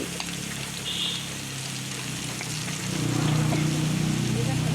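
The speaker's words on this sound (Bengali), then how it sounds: "আলু দেওয়া হচ্ছে এখন। আলুগুলো ভালো করে ভেজে নেওয়া হবে এখন।" Potatoes hit a hot pan and fry for Bengali khichuri, giving a soft, steady sizzle that grows louder and fuller partway through.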